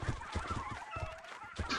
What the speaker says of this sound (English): I think they're called baboon hawks